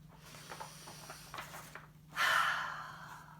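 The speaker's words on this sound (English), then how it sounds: "Let's take a breath." A storyteller draws one long, deep breath, a soft airy inhale rising after a quiet stretch of faint shuffling, near and fairly gentle, alone without speech.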